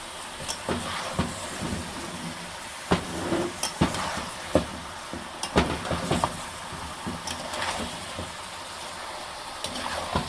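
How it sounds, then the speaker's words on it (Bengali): Jackfruit and chicken curry sautéed in a pan, a low background sizzle broken by sharp scraping and knocking of a spatula against the pan, irregular and close, with no talk. "এখন এটাকে আরও এটার সঙ্গে কিছুক্ষণ কষাবো।"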